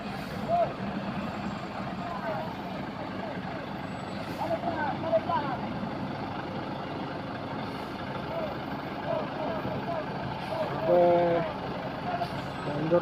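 A loaded 45-ton Volvo trailer truck reverses slowly on an uphill incline, its engine a steady rumble with occasional hiss and beeps, while people talk nearby.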